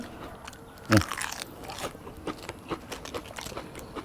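A single sharp, loud crunch of a bite into crisp food near the one-second mark, followed by quieter crackly chewing with soft scattered crunches through the rest, close to the mic.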